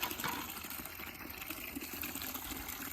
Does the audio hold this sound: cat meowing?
no